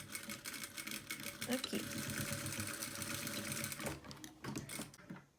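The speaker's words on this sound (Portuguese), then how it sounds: "E eu vou passar uma costura" A domestic sewing machine stitches a seam along a strap fitted to a snap hook using a presser foot, running steadily and fairly close with someone talking over it before stopping near the end.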